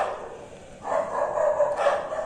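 Outdoor dogs bark at night during rain, a few muffled, moderately distant barks following a quiet stretch, with no one speaking.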